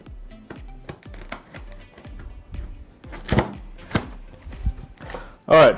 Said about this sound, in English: I'm gonna slice that open there.